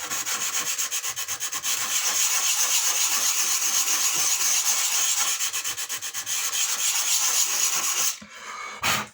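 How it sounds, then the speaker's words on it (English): 80 grit emery paper sands MDF in a steady, close, loud rasping rub with quick back-and-forth strokes, continuing for about eight seconds before stopping, alone. "So just take a little piece of emery, 80 grit emery, just take off the high points."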